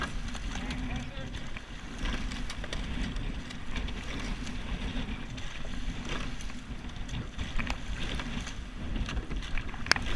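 An eight-oar men's rowing crew strokes through a 5k head race, with water rushing and rhythmic oar and seat noise under steady wind buffeting on the boat, while the coxswain calls out encouragement throughout.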